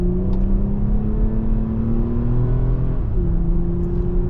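A 2024 Toyota Camry TRD pulls away from a stop, its engine note rising steadily with a brief dip as it shifts, heard from inside the car as a close, continuous rumbling drone.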